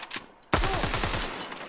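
Sudden burst of rapid automatic gunfire from a video game, loud and close, rattling on steadily after a brief quieter lead-in.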